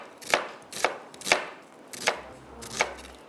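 A knife slices through onions on a cutting board, five evenly spaced crisp chops with a sharp thud on each, close up and with no talking.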